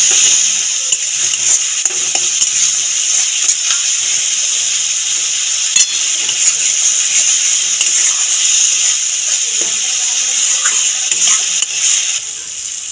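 Spice masala for fish curry is stir-fried in a pan, giving a loud, continuous close sizzle with scattered scraping and stirring clicks throughout.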